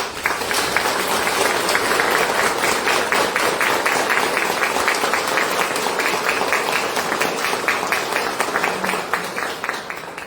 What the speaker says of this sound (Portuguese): uma salva de palmas a todos nós